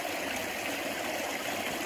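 A river rushes past in a continuous, even flow of water, loud and close throughout with no pauses.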